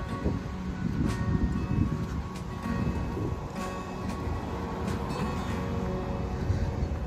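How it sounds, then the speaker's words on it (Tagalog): Steady rumble of passing vehicles on a busy downtown road in Kelowna, Canada, in summer, a continuous low roar with occasional louder swells, no voices. "Daming sasakyan eh."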